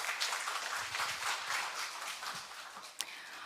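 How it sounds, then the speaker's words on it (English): Audience applause for a speaker at the e-Learning Korea 2018 conference, a steady dense patter of many hands clapping in a hall, fairly distant and even, with one sharper clap near the end. "Please give her a big round of applause"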